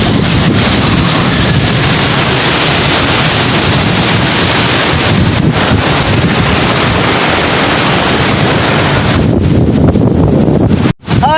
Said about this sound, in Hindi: बारिश बहुत ज़्यादा तेज़ है, तेज़ हवाएँ चल रही हैं